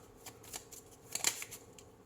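Tarot cards being shuffled by hand during a reading, a few soft riffling swishes and light card flicks with a brief sharper burst midway, close and quiet, no voice.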